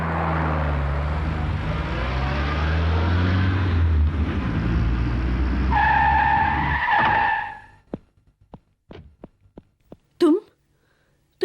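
A car speeds along in a chase, its engine roaring loud and steady with tire skids and a rising squeal, then cutting off into a few sharp knocks and clatters.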